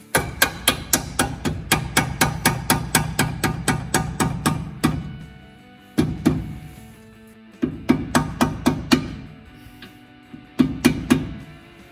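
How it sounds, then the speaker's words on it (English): A mallet hammers a caliper bracket part into place on a 1966 Mustang disc brake swap, with loud, rapid repeated strikes in several bursts separated by short pauses. "I had to use a mallet to get it in."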